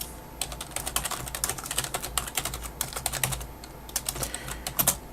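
Steady, fast typing on a computer keyboard, a dense run of close, crisp key clicks with brief pauses and a few heavier keystrokes near the end, no voices.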